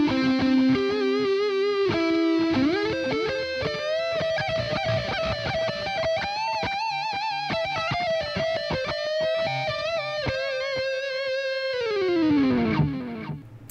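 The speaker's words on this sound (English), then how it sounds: "you hear the delay on that? So you will get sounds like this." An electric guitar plays a sustained, distorted lead line through a Headrush effects unit with delay, each note trailing echoes. It rises and bends across several notes before sliding down at the end, loud and alone.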